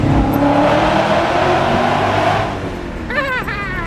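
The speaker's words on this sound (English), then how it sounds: "You just started your car with your key." A car engine runs steadily and loud after being started with a key, its rumble easing off partway through while a faint warbling tone appears near the end.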